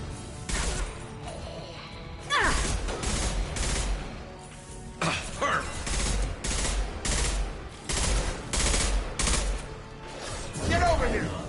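Rapid bursts of gunfire from Mass Effect 2: Legendary Edition, a firefight during the search for Archangel, with repeated loud volleys separated by short pauses and brief shouts from characters in between.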